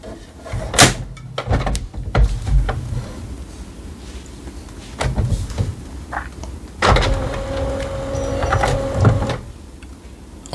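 Plastic front door of an HP OfficeJet Pro 8125e-series inkjet printer being pushed shut, giving several short knocks and clunks spread across the moment, with a brief mechanical whir afterward and no talking.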